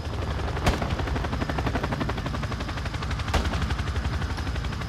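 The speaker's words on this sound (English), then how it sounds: "Oh, that guy's shooting." Gunfire in Call of Duty Modern Warfare II, a steady rattle of automatic weapon fire running throughout with two sharper loud shots standing out, set against a constant low rumble of battle.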